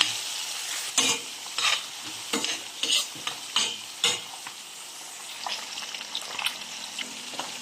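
Tomato and onion are dropped into a very hot pan with garlic and stirred. Close, bright sizzling comes in irregular bursts with scraping stirs, then eases into a softer steady fry, with no speech.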